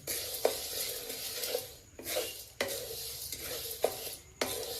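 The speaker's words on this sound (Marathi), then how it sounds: "याच्यातच आता मी उडदाची डाळ टाकते असे दोन्ही डाळी आता बरे भाजून घेऊ" Urad dal and other lentils dry-roast in a pan while a spoon stirs them, making a series of rhythmic scraping sweeps roughly every half second over a soft, dry crackle, with no talking.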